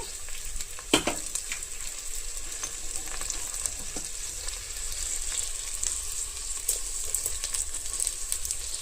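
Chopped ivy gourd with a little salt sizzles and crackles steadily as it fries in a pan, with occasional scrapes and knocks from stirring; no one speaks.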